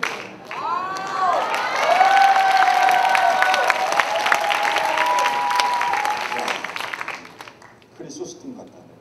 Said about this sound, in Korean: 박수를 받아.